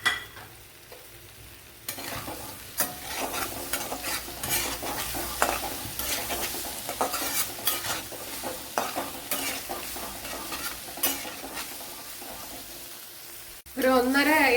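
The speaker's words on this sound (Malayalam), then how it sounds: "അതിലേക്ക് ഈ ഏത്തപ്പഴം കൂടെ ചേർത്ത് കൊടുക്കുക. ചേർത്ത് കൊടുത്തൊന്ന് വഴട്ടിയെടുക്കുക." Sliced ripe plantain (ethapazham) sautéing in ghee in a pan, a steady close sizzle broken by repeated scraping and stirring strokes of a spatula, with a sharp change in sound near the end.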